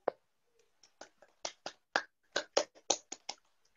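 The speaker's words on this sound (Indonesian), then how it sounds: "Tepuk tangan buat Zenisa." A handful of separate, crisp claps sound faintly, about a dozen sparse hits, praising a pupil in an online primary-school maths lesson.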